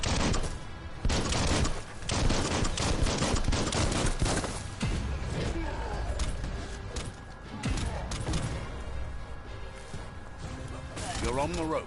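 Gunfire in the action game Biomutant, repeated loud bursts and impacts mixed with crashes and mechanical clatter, with someone talking over the fighting throughout.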